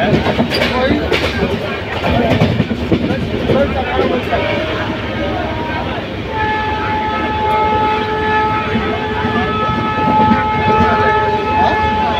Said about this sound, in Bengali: ট্রেনের স্পিড এতক্ষণে উঠলো